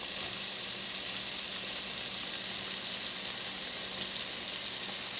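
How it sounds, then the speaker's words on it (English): Purple-red and green cabbage stir-frying in a pan while cooking pancit sotanghon, a loud, continuous close sizzle that holds steady without any talking. "we are going to mix in 2 cabbages. One, the purple red, and the green cabbage."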